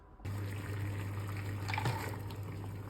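Water pours steadily into a pot to boil acorns for acorn coffee outdoors, a continuous close splashing flow with a steady low hum, brief louder splash near the end, no talking.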